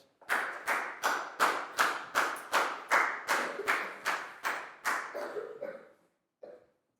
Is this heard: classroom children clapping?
yes